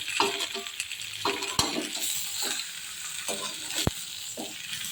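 Raw mango pieces being stirred in a pan for homemade sweet, sour and spicy pickle, giving a continuous soft sizzle with scraping strokes and a couple of sharp clicks from the spoon against the pan.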